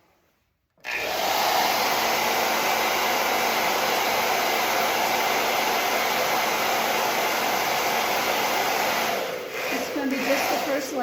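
A hair dryer blows on a first layer of paint, switching on abruptly and holding a loud, steady whoosh that runs on without a break, with some handling noise near the end.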